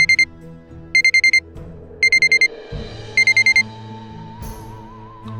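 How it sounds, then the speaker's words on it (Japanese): An alarm clock that has tumbled onto the floor goes off, beeping in loud bursts of four quick electronic tones repeated about once a second over a low, sustained musical backdrop. "その瞬間に目覚まし時計が床に転げ落ちてなった"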